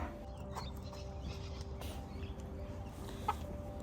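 A rooster and chickens cluck in a yard, a close, low-level stream of soft clucks and calls with scattered rustling, no talk over it.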